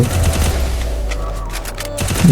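Rapid gunfire bursts from the video game Free Fire, loud and dense, with repeated shots overlapping throughout the moment.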